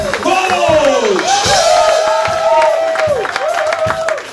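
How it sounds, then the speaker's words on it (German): A concert crowd at Gleis 11 in Bergheim in 2023 cheers, whoops and shouts with clapping mixed in. The noise is loud and close, holding steady for the whole stretch with rising and falling vocal cries. "Und das ist ein Applaus"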